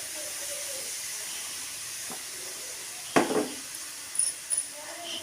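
Bottle gourd pieces frying in a pan with browned onions and green chillies, a steady steamy hiss with a sharp clatter as the pieces go in, then a few utensil knocks.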